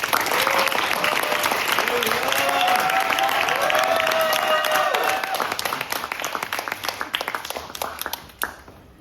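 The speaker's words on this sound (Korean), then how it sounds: "오요셉 목사님께서 무대 위로 올라오실 때 큰 박수로 환영해 주시면 감사하겠습니다." A church audience at a university semester-opening worship service applauds loudly as the pastor steps onto the stage, dense steady clapping with a few cheers and voices mixed in, tapering off near the end.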